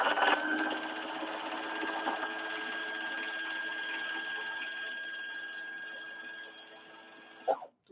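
A sewing machine winding a bobbin runs as a steady mechanical whir for several seconds, then slows and stops with a small click at the end.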